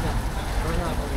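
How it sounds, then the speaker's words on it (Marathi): Heavy monsoon rain in a Konkan village pours down as a loud, continuous hiss, with a voice faintly present beneath it. "आता पाऊस बघा किती जोराचं लागतं."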